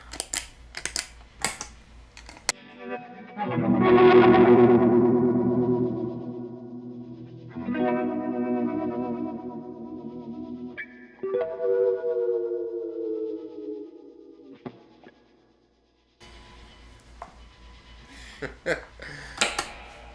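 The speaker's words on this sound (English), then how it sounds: "the second generation of Fender effects pedals that we wanted to show off" Electric guitar played through second-generation Fender effects pedals, heavily processed with chorus, echo and distortion, rings out in long sustained notes and chords, loud and close, with short muffled bumps at the start and end.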